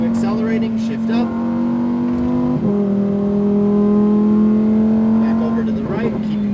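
A Lamborghini Huracan STO on a racing track engine pulling hard under acceleration, its loud sustained drone rising in pitch, briefly dropping at one upshift around the middle, then climbing again, heard from inside the cabin.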